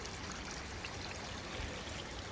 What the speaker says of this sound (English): We're at a tributary of Rock Creek